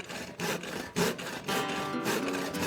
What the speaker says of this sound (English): I just take an old saw and cut along the line